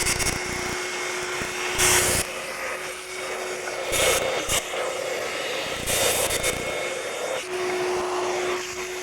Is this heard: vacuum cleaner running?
yes